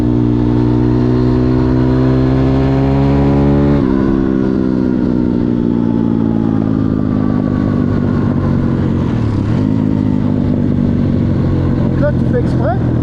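A Zongshen 180 motorcycle engine revs hard close by, climbing in pitch with the throttle opened, dropping sharply, then rising again through a second long pull before settling. Voices speak briefly over the engine noise.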